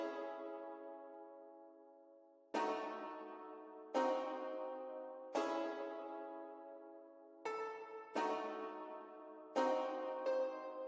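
A sampled piano preset in the Piano Tech VST plugin plays a series of struck notes and chords at a slow, steady pace, each ringing out and decaying before the next, clear and alone.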